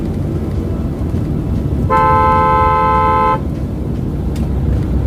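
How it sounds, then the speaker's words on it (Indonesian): A Toyota Kijang car driving the wrong way against traffic sounds one steady horn blast of about a second and a half, loud and close over a constant rumble of road traffic. "Ada yang melawan arah, mobil Kijang."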